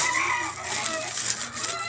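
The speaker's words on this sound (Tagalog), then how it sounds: "Ang ingay sa labas. Mga manok ni Papa." Chickens cluck and chatter continuously outdoors, a busy, fairly loud jumble of bird calls with no clear pauses.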